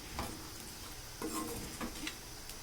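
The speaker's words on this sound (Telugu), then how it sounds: "ఈ ఫ్రై అయిపోయినంతసేపు మనము కలుపుకుంటూనే ఉండాలండి, లేకపోతే మొత్తం మాడిపోతుంది" A potato fry is stirred in a pan while it cooks. There is a soft, steady sizzle and a few faint scraping strokes of the spoon, quiet and close, with no voices.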